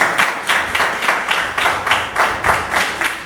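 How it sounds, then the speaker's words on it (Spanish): A church congregation claps in a steady rhythmic beat, roughly two claps per second, loud and close, with no talking over it. "Denle un fuerte aplauso al Señor."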